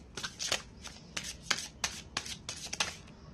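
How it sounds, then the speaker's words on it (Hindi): Tarot cards being shuffled by hand in a series of quick riffling bursts, crisp papery flutters separated by brief pauses, close and fairly quiet, with no voices. "लेट्स सी, फिर भी इसलिए हम और शफल कर रहे हैं।"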